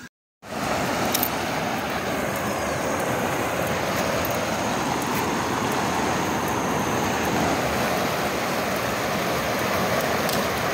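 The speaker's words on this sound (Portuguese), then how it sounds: "Muita chuva aqui na cidade de Vazé Alegre" Heavy rain falls on a city in Brazil's Northeast, a loud continuous roar of water pounding surfaces that starts after a brief silent gap and holds steady throughout, with no talk.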